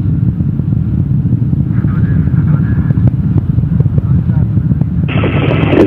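Deep, loud rumbling roar of a Russian rocket's first stage lifting a three-person crew toward the ISS, with four boosters and a single engine burning liquid fuel, sustained under a commentator's voice.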